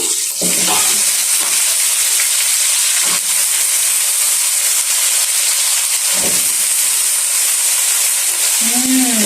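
Pumpkin hits a pan of sautéed onions and fries with a loud, constant sizzle close by, broken by a few stirring scrapes.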